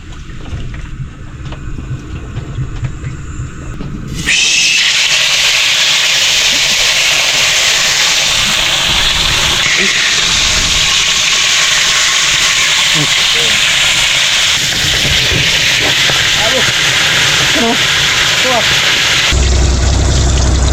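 Fish hits hot oil with a sudden loud sizzle that continues as a steady crackling hiss, close up, following a few seconds of quieter kitchen noise.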